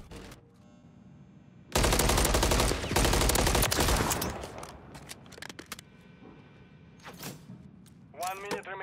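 Gunfire in a first-person shooter game played on keyboard and mouse: a sustained burst of rapid shots, then scattered single shots and clicks, with a voice reacting near the end.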